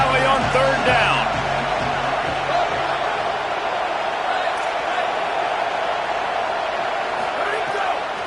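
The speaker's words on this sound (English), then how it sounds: "Here comes the noise from this big crowd in Happy Valley on third down." A big football stadium crowd in Happy Valley roars steadily on a third down, a dense, loud wash of voices and cheering that holds throughout with little letup.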